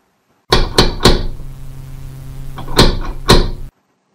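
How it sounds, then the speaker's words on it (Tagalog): Loud knocking on a door: three quick heavy knocks, a pause, then two more, close and sharp in an otherwise silent room. "malakas na katok sa kanyang pinto"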